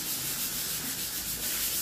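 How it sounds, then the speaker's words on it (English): Light scuff sanding over a varnished wooden church pulpit, a continuous soft rasping with gentle back-and-forth rhythm, close up. "Just doing a light sand, and that's what's called scuff sanding."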